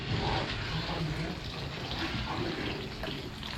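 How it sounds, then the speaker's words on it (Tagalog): Tap water pouring steadily into a cooking pot for spaghetti, a continuous broadband rush of filling liquid, close and fairly loud, with no break in the flow. "naglagay na tayo ng tubig"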